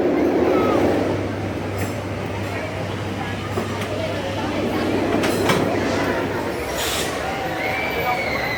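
A Runaway Mine Train roller coaster car at Six Flags Over Texas rumbles along its track with a steady, loud rolling roar and rattling, while riders' voices and crowd noise sit beneath it.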